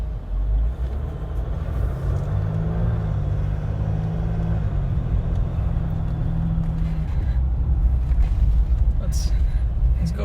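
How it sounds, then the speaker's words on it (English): A 2021 Jeep Wrangler turbo diesel runs with a low, steady rumble under people talking, its engine tone shifting slightly midway while road and wind noise fill in around it. "For a diesel, it's not that loud. No, actually, it's quiet."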